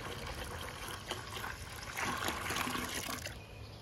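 Distilled water pours into a boat engine, a steady trickling stream running the whole time and swelling slightly toward the end, close and moderately quiet.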